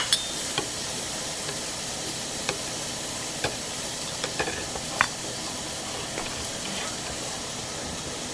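Pork cooking with a loud, continuous sizzle and hiss, punctuated by occasional sharp pops and taps, with no talk.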